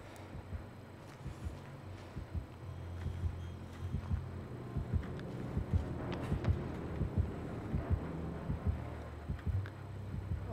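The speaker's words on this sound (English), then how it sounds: "The heartbeat just doesn't want to go away either." The terror-radius heartbeat warning in the horror game Dead by Daylight, a steady low thumping pulse repeating throughout, growing slightly stronger, over a dim ambient hum.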